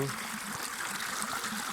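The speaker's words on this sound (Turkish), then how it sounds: "Su yine cağıl cağıl akıyor." Creek water flowing and trickling beside the bank, a faint, steady babbling murmur heard briefly at close range.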